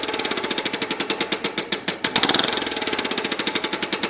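A rebuilt overhead-valve single-cylinder model engine running on compressed air, with ball-bearing inlet and outlet valves, chuffs in a fast, steady exhaust rhythm that briefly falters and then picks back up, close and fairly loud.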